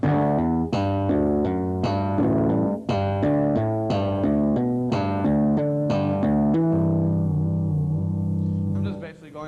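A slow, plucked melodic lead line on an electric bass guitar, individual notes picked one at a time with open-string sounds and a sustained final note.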